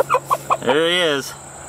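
A big meat chicken raised in the city gives a few quick, close clucks, then one drawn-out, squawking call before falling quiet.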